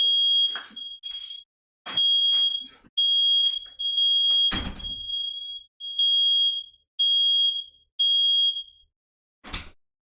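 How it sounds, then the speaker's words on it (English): A smoke alarm goes off repeatedly, sounding a series of loud, piercing beep bursts with short gaps between them, with brief clatter and a thud in between and no talking over it. "Damn, stupid ass alarm."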